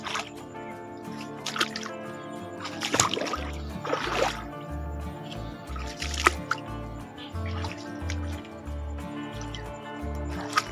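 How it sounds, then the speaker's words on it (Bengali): Bare feet wade through water along a muddy path flanked by jungle, with soft squishing, sloshing steps at a steady walking pace over a constant bed of tonal, music-like sound. "দেখুন জল ক্রস করছি"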